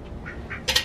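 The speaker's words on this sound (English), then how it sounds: "Even the duck is here." A duck on a small farm gives a short, close quack near the end after a few faint softer calls, amid quiet outdoor background.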